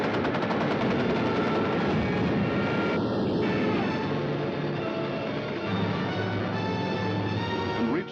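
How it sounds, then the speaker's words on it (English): German bombers roar overhead during a 1940 Battle of Britain raid on London, a dense, continuous engine drone mixed with rapid rattling bursts like machine-gun fire, loud and steady throughout with no voices. "Some of the German bombers broke through London's defenses."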